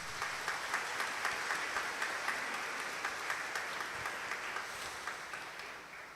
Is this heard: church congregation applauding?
yes